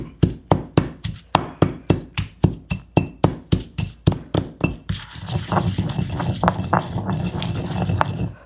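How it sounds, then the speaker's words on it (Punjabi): Pomegranate-seed chutney being pounded by hand in a kunda mortar, a steady run of sharp, evenly spaced thuds close up, then shifting to a denser, continuous grinding and mashing sound. "ਹੁਣ ਆਪਾਂ ਨੇ ਕਰਨਾ ਹੈ ਕੁਟਾਈ ਸ਼ੁਰੂ ਇਹਦੀ"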